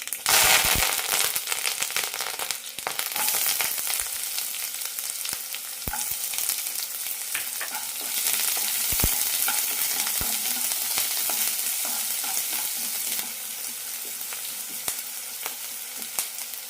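Mustard seeds, curry leaves and onion frying in a teaspoon of oil in a pan, a loud continuous sizzle with scattered crackles and pops from the seeds, close up and without talk.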